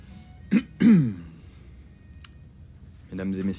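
A couple of short, sharp coughs or throat clears, followed by a pause and then a voice beginning to speak.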